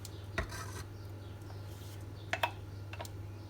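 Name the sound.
stirring cheese soufflé batter with cream over heat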